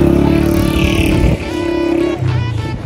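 Motorbikes pass on a road near a lake, a loud close engine drone that shifts in pitch as the bikes go by, with a brief dip before another engine takes over.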